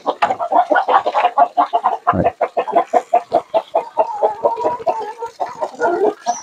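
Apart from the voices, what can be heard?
chickens clucking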